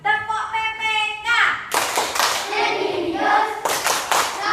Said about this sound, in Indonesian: Sekarang kita merayakan keberhasilan dengan mengucapkan tepuk PPK.